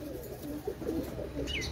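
Pair of teddy pigeons coo in soft, low rolling bursts, a few warbling calls at moderate distance with faint room noise, and a brief higher chirp near the end.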